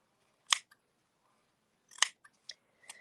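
Scissors trim the edge of a stamped paper greeting card, a few crisp, separate snips spaced apart, close and clear against near silence.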